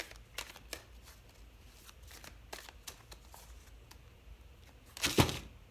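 Tarot cards are handled with soft scattered flicks and slides, then a brisk riffle shuffle bursts out loudly near the end, close up and without speech.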